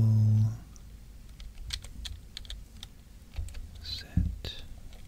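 Soft, crisp keystrokes on a computer keyboard come in short irregular bursts, close and quiet while code is entered at a Windows command prompt, with a soft-spoken voice heard briefly at the start and near the end.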